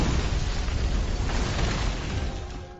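A deep rumbling boom with a long rolling tail that slowly fades out near the end.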